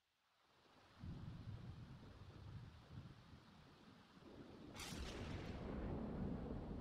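Low rumbling thunder rolls in and builds, joined by a steady hiss of rain that grows heavier toward the end, in The Sims 4.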